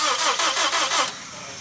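A car engine cranks and fires up after being primed with oil pressure in a home garage, several rapid rhythmic cranking pulses before catching and settling into a lower, steady running sound, close and loud.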